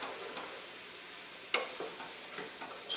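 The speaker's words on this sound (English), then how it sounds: "a little saute on these vegetables" Vegetables for a bean soup sear in a hot pan, a faint, soft sizzle with a few brief scrapes and clicks of stirring, close and without voices.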